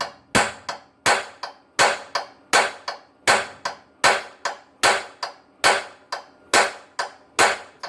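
Heavy hammer blows striking a stuck cylinder head bolt, a steady series of about fifteen loud metallic impacts in a regular rhythm, each with a short ringing decay, close and clear with no talk.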